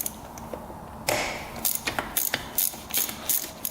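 A wrench ratchets in short repeated clicking bursts while loosening the brake bleeder nipple on a Yamaha YZ250 dirt bike, close and crisp after an initial scrape, with no talking.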